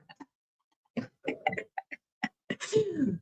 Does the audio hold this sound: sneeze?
yes